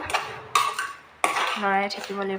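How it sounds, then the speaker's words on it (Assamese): Coconut laddu mixture stirred in a pot, with a few sharp metallic clinks and scrapes of a spoon against the pot, close and brief, with a voice-like tonal sound near the end. "এইখিনি এতিয়া মই এনেকৈ লৰাই থাকিম এইটো লৰাই থাকিব লাগিব"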